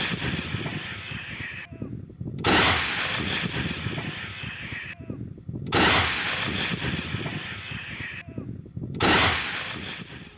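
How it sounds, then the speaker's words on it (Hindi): 2S7M artillery guns shelling Ukrainian positions in war, three heavy booming blasts roughly three seconds apart, each followed by a long rumbling roar over constant noise. "2 S7M तोपों से यूक्रेनी ठिकानों पर बमबारी की है, तबाही मचाई है।"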